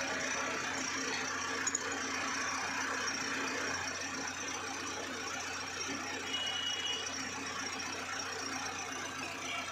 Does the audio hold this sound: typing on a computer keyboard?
no